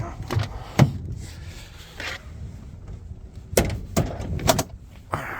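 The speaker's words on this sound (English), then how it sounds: "Oh, let me open the hood too." Hood of a 2025 Volvo VNL860 truck being unlatched and opened, heard as a few sharp nearby clunks and clicks early on, then another burst of loud latch knocks and a thump toward the end.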